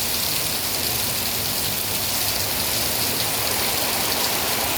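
Heavy rain pours down in a dense, steady roar of drops hitting surfaces, loud and unbroken throughout with no voices.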